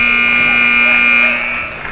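A loud, sustained electronic buzzer sounds at a boys' high school basketball game, holding steady for over a second before tapering off amid faint gym noise.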